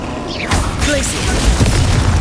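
Icy Glacius freezing spell from Hogwarts Legacy on PS5, a burst of crackling, booming magical impact amid dense game combat noise, with a whooshing sweep and low rumbling thuds filling the short stretch.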